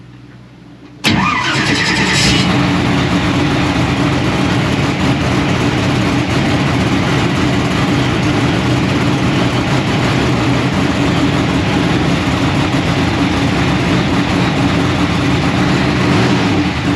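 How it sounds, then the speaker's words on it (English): A drag race car engine fires up after a second of quiet, then settles into a loud, steady idle that rumbles on at close range while the motor warms up, with no talk over it. "We're going to get the car fired up here, get some heat in the motor"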